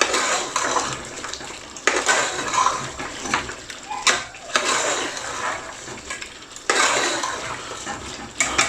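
Tomato puree and spices are stirred into water in a cooking pot for lamb korahi. The mixing gives a continuous wet, sloshing churn with scraping surges that swell and ease in rough strokes, close by and fairly loud.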